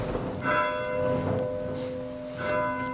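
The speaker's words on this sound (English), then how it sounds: "That's a good bronze sounding bell." A bronze church bell of about 700 pounds, pitched at B natural, tolls in a church tower, each strike blooming into a long ringing hum of steady overtones; several strokes sound at a moderate distance with no talk.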